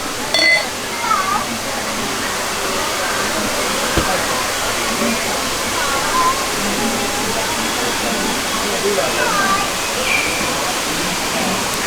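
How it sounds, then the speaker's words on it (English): Continuous foamy rushing and splashing of beer poured into a glass, steady and close for several seconds, with faint voices in the background. "take 2 on me pouring a beer"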